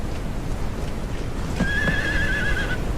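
A horse neighs in the zombie survival game HumanitZ, a bright, wavering whinny of about a second that rises out of steady low ambient rumble, with a couple of soft thuds underneath.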